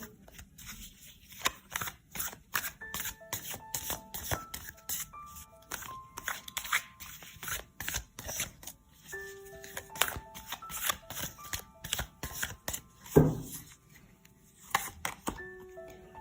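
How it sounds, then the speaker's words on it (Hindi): Tarot cards are shuffled close by in repeated quick riffling bursts, crisp snapping flutters spaced through a long stretch, with soft background music tones and a brief thump partway through. "टैरो की मदद से मैं पहले कार्ड्स लेती हूँ"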